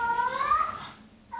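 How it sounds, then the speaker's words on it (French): A house cat meowing early in the morning, one long drawn-out wavering meow up close, trailing off before a second cry starts. "Tu vois, il miaule à 7h, c'est horrible."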